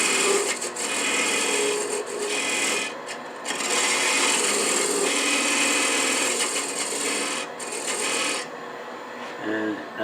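A wood lathe turns a bubinga blank while a tenon is cut for the chuck, giving a continuous close rasping, scraping tool-on-wood noise with a steady motor drone and brief dips where the cutter lifts off.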